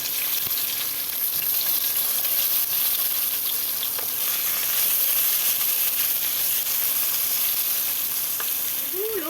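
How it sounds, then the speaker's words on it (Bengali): Long strips of eggplant frying in hot oil for shukto, with a constant dense sizzle and crackle running evenly throughout, close and fairly loud, with no voices. "একই তেলের মধ্যে দিয়ে দিচ্ছি লম্বা লম্বা করে কেটে রাখা বেগুন"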